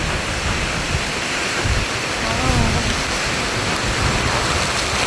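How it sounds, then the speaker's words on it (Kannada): Forceful waterfall roaring as a steady, dense broadband rush of falling water, loud and close throughout with no clear breaks or separate splashes. "ನೀರು ಬೀಳೋ ಪೆಟ್ಟು ನೋಡಿ ಗಾಯ್ಸ್"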